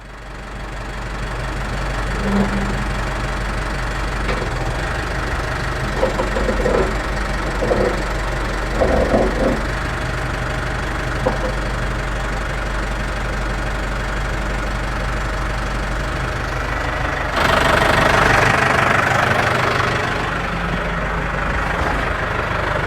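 A tractor engine idles steadily and close by, a continuous low rumble with a slight knocking texture and a brief louder surge near the end, with no talking.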